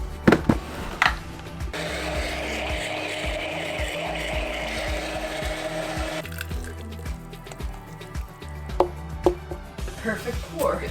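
A countertop blender whirs through a vegan smoothie, starting with a few clunks and then running loud and steady for several seconds before stopping, followed by clattering handling sounds.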